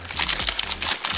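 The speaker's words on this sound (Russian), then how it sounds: "А я буду открывать потихонечку подставку." Packaging crinkles and crackles as a metal knife block stand from a Lora NS18SETKN kitchen knife set is unpacked, a close, dense, continuous rustle over a little more than a second with no talk.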